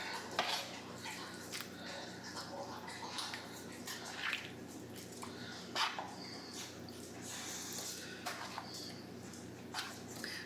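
Thick chili puree and other chili colorado ingredients are stirred together in a pot, with a spoon clinking and scraping against the metal in quick, uneven bursts over a steady low background.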